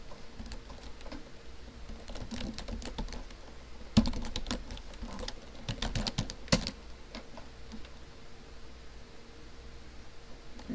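Quiet keystrokes on a computer keyboard, a run of irregular light taps with a few louder clusters and pauses over a faint steady hum, close and alone.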